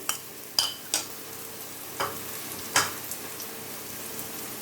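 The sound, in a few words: crushed green chillies frying in oil with cumin potatoes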